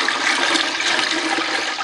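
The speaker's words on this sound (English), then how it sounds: "I'm going to add 2 more gallons of water to this" Water pours steadily and loudly into a beer brewing kettle during home brewing, a continuous rushing gush that runs throughout with no talk.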